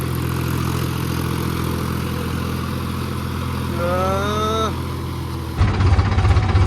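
Tractor engine idling with a steady low rumble, then revving briefly with a rising whine as the accelerator is pressed, followed by a rougher, louder burst near the end.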